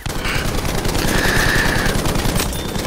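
Browning medium machine gun firing in Battlefield 5: a loud, rapid, continuous burst of automatic fire with tightly spaced rattling shots across the whole stretch, close and dominant with no talking over it.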